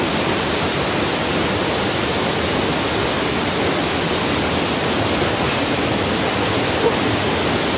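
Dense, unbroken roar of heavy surf, loud and constant throughout with no distinct breaks between waves.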